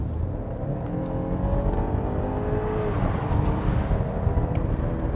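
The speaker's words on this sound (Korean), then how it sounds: "자, 가속대의 느낌, 아무래도 배기량이 제한적이다 보니까 조금은 더딘 그런 가속이 나오지 않을까 싶었는데요" A BMW 520i rear-wheel-drive sedan accelerates, its engine building in a steady, rising drone with harmonics sweeping upward, heard continuously and fairly loud with no talking.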